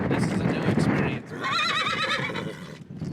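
A young horse under training on a Montana ranch cattle drive lets out a loud, close whinny with a wavering, trembling pitch, preceded by hoof clatter, trail noise and talking voices.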